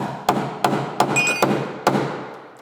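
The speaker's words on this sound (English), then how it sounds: "So I get my spade bit and my hammer, just make a little gap there." Five sharp hammer taps against a piano's wooden board while opening a gap with a spade bit, spaced unevenly and close to the listener, with no talk in between.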